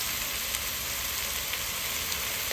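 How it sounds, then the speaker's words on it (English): Alligator snapping turtle meat sizzles steadily as it browns in hot oil in a pot, a constant close frying hiss with faint pops and no voices. "I'm gonna add a little oil to my pot. I'm gonna get my turtle meat in there,"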